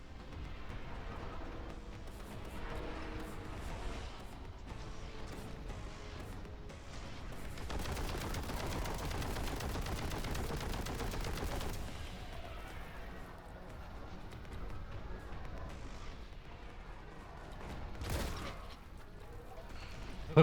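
Shotgun fire in the game Warhammer 40,000: Boltgun, a quiet, rapid stream of gunshots and blasts with a heavier sustained barrage midway, mixed with game effects and faint talk.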